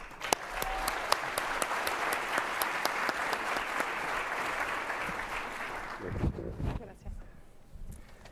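An audience applauds to welcome a speaker at an event, giving loud, sustained, close clapping that ends abruptly near the end with a few rustles and thumps.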